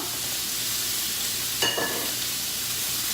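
A turned ribeye steak sizzles in a pan over heat just above low, giving a steady close hiss with faint crackles and a short louder flare partway through.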